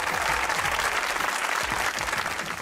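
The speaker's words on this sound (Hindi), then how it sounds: "तालियां।" A studio audience at a Pakistani comedy talk show claps steadily and enthusiastically, a dense wash of applause that holds at an even level throughout.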